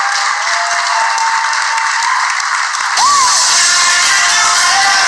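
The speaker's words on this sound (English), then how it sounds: "They're clapping right along." A wrestling-style event crowd applauds and cheers steadily as Jeannine is brought out, a dense wash of clapping and voices. Around the midpoint it briefly swells louder, with a faint whistle-like whoop.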